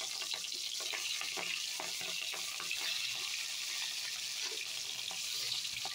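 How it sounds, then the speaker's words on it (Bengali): Fish frying in hot oil, a steady close sizzle and crackle with occasional spits and pops, with no talking. "প্রথমে এরকম ভেজে নিই মাছগুলো ভালো করে।"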